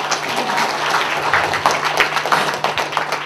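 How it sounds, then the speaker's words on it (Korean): Audience applause at a Korean ceremony honouring the chair of an international green climate organisation, a dense, steady wash of many hands clapping with scattered sharper claps, heard alone for a few seconds. "여러분 박수 한번 부탁드립니다."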